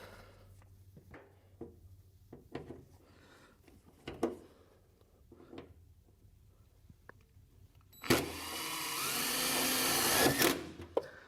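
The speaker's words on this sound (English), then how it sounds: "Just going to use a self-tapping screw here." Power drill driving a self-tapping screw into a fiberglass car hood, a short burst of whirring near the end after several scattered knocks and handling sounds.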